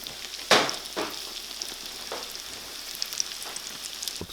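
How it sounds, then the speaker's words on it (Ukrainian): Ring-shaped pampushky doughnuts with a hole in the centre fry in oil in a pan, giving a steady close sizzle broken by a few sharp crackling pops. "Готують такі пампушки на пательні."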